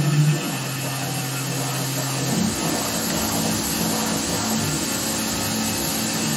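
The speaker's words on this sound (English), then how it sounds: "There goes the spindle." Carvera Air desktop CNC mill spindle spinning up and cutting with an end mill, a steady whirring drone that shifts pitch as it starts, then holds a continuous loud machining hum.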